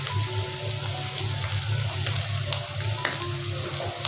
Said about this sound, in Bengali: ভাজিটা প্রায় হয়ে গেছে, নেড়ে চেড়ে নামিয়ে ফেলবো